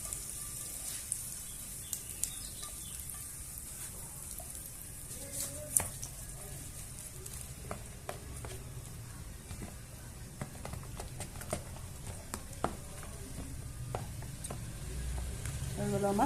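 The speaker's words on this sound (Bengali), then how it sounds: "অল্প একটু তেল গরম করে সরষে আর কারি পাতা দিয়ে দিলাম।" Mustard seeds and curry leaves sizzle in a little hot oil, a steady close crackling hiss dotted with small pops and spits throughout.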